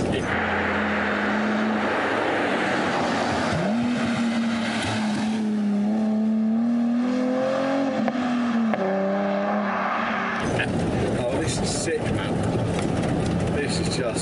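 A 1955 Ford F100 pickup on a custom chassis with a rear-wheel-drive Nissan 370Z drivetrain revving toward 7,500 rpm. The loud engine note climbs steadily in pitch, then drops and changes character near the end, with voices underneath.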